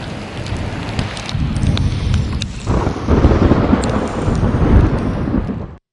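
Heavy rain and gusting storm wind roar loudly and continuously, with a rumble of thunder and sharp crackles of raindrops, before the sound cuts off abruptly at the end.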